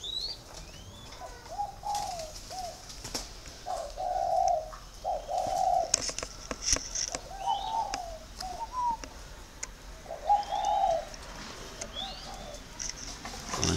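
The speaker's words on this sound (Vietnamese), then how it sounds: "Đó là những chú chim đã biết gáy biết gù rồi." Young captive-raised doves coo in short repeated phrases, with occasional wing flaps and faint chirps from nearby birds, moderately close, no talking.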